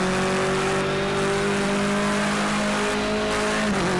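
A BMW race car in Project Cars 2 holds a loud, steady high-revving engine whine, with tires squealing and the pitch shifting slightly near the end.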